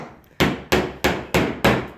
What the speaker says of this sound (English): I'm not having very good luck hammering my nails in.